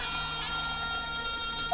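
Emergency siren wailing steadily and fairly loud in the background, with a sustained tonal drone throughout and no voices over it.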